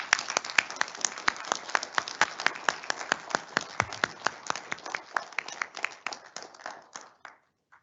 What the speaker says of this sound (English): I think you guys deserve an applause for yourself